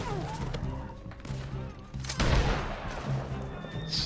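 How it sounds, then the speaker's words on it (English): A single loud gunshot blast in Red Dead Redemption 2 cracks out midway over continuous game ambience and background sound. "Yeah, gunfire and everything."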